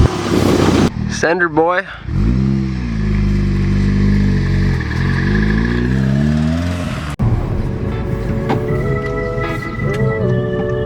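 A big-turbo, forged 500+ whp VW MK7 Golf R engine runs rough, loud and close, its low drone wavering and stumbling with a sharp cut and a restart, while a voice speaks briefly.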